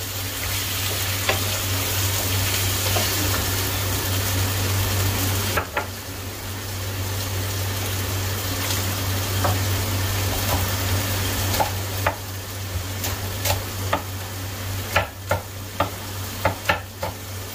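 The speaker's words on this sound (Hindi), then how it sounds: "और फिर इसमें अच्छी तरह मिक्स कर लूंगा" Potatoes and spinach stirred in a pan for aloo palak, a steady sizzle with scraping spoon strokes throughout, the frying dropping briefly partway and then returning with sharper clinks near the end.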